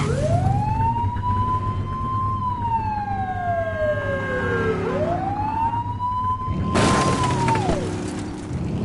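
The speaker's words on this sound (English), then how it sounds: "Get on their tail and flip the siren." Police siren in a police video game, wailing up and down in long rising and falling sweeps with engine rumble underneath, a louder harsh burst near the end, no talking.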